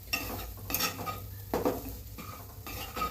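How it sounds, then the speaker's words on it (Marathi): Semolina roasting in a pan for sheera prasad, stirred with a spoon that scrapes and clinks against the metal in short repeated strokes over a faint sizzle, close and fairly loud. "आपला रवा चांगला भाजत आलेला आहे."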